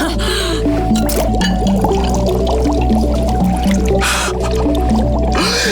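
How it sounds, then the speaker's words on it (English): Liquid bubbles and gurgles in a kids' summer science experiment, a busy stream of wet pops and squishes heard up close, with brief voices in the background. "It's bubbling!"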